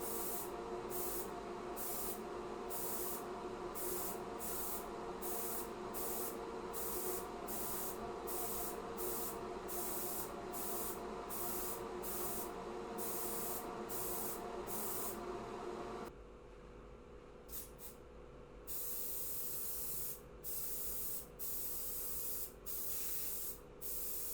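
Spray coats go onto a scale model from an aerosol can in a long run of close, steady hissing bursts with brief pauses between, then a few shorter puffs near the end.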